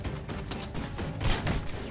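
Rapid bursts of gunfire in Fortnite, a dense fusillade of shots crackling in quick succession with a louder cluster toward the end.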